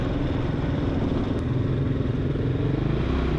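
Husqvarna off-road motorcycle being ridden on a trail, a steady mid-pitched engine drone with clattering, close and continuous for a few seconds with no voices.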